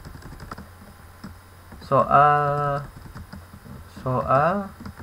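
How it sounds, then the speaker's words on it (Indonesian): Someone types a form title on a computer keyboard, making soft, quick key clicks. Two louder voiced sounds break in partway through. "Kita langsung aja ketik judulnya"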